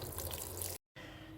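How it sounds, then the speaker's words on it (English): Water running from a tap into a cooking pot, a close steady splashing flow that cuts out briefly and then resumes. "Added some water."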